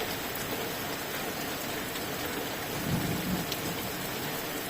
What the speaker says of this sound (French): On entend l'orage